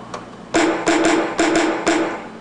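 Punchy percussive hits from a Roland MV-8000 sampler repeat in an uneven pattern, with a faint clap tucked underneath, played close and fairly loud.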